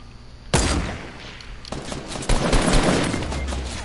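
Gunfire in Fortnite, sharp close shots and rapid bursts cracking at several points across a few seconds, loud over a busy game background.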